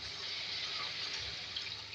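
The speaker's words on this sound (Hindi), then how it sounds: "2 गिलास इसके अंदर पानी ऐड कर रही हूँ ताकि हमारे जो आलू हैं ये भी कुक हो जाएँ" Water from a glass pours steadily into a pan of potato and eggplant curry, a continuous splashing, gurgling stream heard close and on its own.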